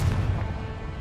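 Confringo explosive spell cast in Hogwarts Legacy, heard as a single muffled boom with a low rumbling tail that fades over about a second.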